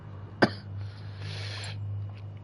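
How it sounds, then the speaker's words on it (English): A single short, sharp cough bursts out once near the start, followed by quiet background hum. "I've got the coughs."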